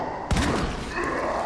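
A single heavy gunshot in the Resident Evil 2 remake video game, one loud close blast with a booming low thud that quickly decays into a quieter room tone.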